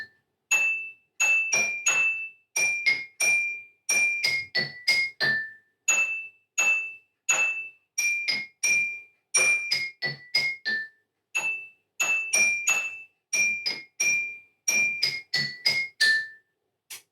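A melody tapped out on tuned water glasses, clear ringing pings in quick rhythmic phrases with short pauses between groups, close and bright with no talking.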